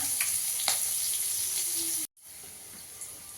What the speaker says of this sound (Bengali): একটু ভেজে নেব উচ্ছেটা।